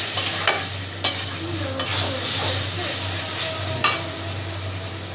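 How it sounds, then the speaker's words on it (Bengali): Ginger and garlic sizzle steadily in hot oil, with a spoon clinking and scraping against the pan a few times, close up. "আদা রসুন একটু ভাজা ভাজা করলাম"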